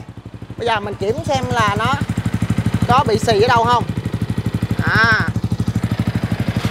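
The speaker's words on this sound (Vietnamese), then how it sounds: "Đây là tiếng bô của red leo." A Yamaha Exciter 155 motorcycle fitted with a Redleo exhaust idles close by with a deep, steady, rapid pulsing thump, while someone talks over it for much of the time.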